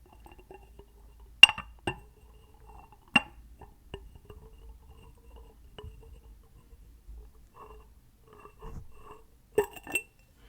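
Cups knock and clink together in a handful of bright, separate taps scattered through a quiet room, with soft handling noises between them.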